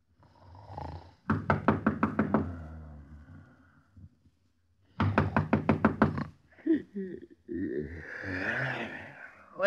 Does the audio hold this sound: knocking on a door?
yes